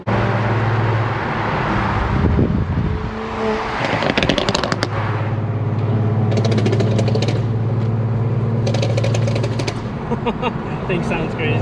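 BMW 135i with a catless downpipe and M Sport exhaust, idling and revving outdoors with a steady droning exhaust note and sharp rasping bursts, loud and close, with people talking over it.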